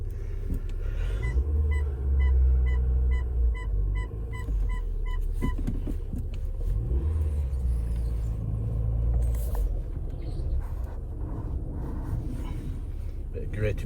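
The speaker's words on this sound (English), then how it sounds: "Bit of grating from the brakes" A Mini Convertible rumbles along at low speed, with rough grating scrapes from the brakes breaking through the steady engine drone.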